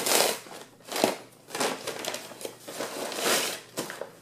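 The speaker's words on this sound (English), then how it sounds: "There's a bunch of Cuban fiber inside here, so I'm just going to rip into it rather than cut into it." A ZPacks package holding Cuben fiber gear being torn open by hand, with bursts of crinkling, rustling plastic and tearing sounds close by in an irregular rhythm, no talk.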